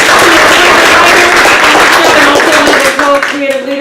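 Audience at a closing performance breaks into loud, sustained clapping that fills the room, with voices mixed in toward the end.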